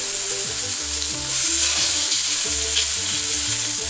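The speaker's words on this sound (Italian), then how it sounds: "La piastra è bella calda e fumante, è arrivato il momento di cuocere gli hamburger." Turkey burgers sizzle on a hot, smoking griddle, making a loud, continuous close-up hiss and crackle that stays steady throughout.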